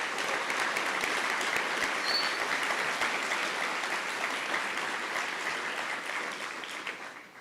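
An audience at an engineering ring ceremony applauds new inductees, a dense, steady round of clapping from many hands that holds at a moderate level and then tapers off at the end.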